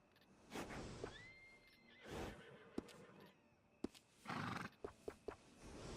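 A horse whinnies with a rising, drawn-out call, followed by scattered hoof clops and soft whooshes, fairly clear against a quiet background, in the video game Red Dead Redemption II.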